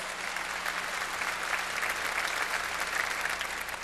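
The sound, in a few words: congregation applauding in church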